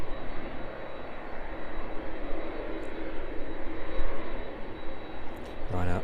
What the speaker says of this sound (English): First of 5 departing aircraft to leave East Midlands then in the next few minutes.